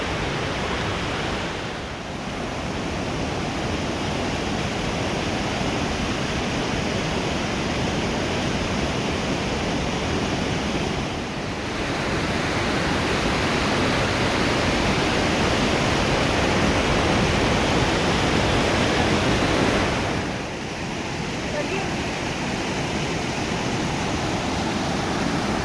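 A waterfall on the Yulla Kanda trek in Himachal Pradesh roars as a steady, dense, loud rush of falling water, continuous and unbroken, with no voices.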